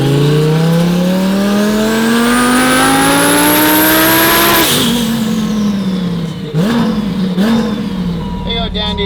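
A turbocharged car engine on a dyno at 10 psi boost revs in one long climbing pull to a peak, then drops off and blips again, loud and close throughout.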